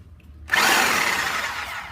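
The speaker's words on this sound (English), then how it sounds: "we're going to take our trusty sawzall" A Sawzall reciprocating saw bursts to life and cuts through metal rivets holding an RV vent fan shroud, loud and close, with a harsh, steady buzzing that continues without a break after a brief quiet start.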